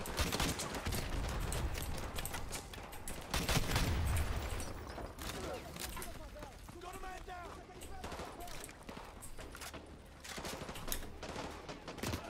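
Gunfire in the game Call of Duty: Modern Warfare 2 crackles in repeated volleys and scattered shots, fairly quiet and mixed with battlefield noise, with voices speaking over parts of it.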